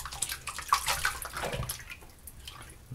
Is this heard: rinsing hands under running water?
yes